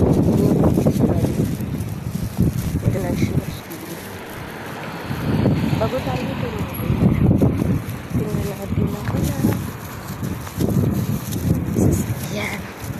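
Gusty outdoor wind buffets the microphone in low rumbling waves, rising and easing repeatedly, while a person talks over it.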